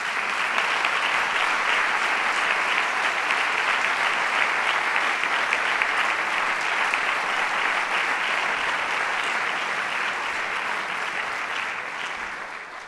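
Dense, sustained applause from an audience at an awards gala, loud and even for several seconds before gradually tapering off at the end.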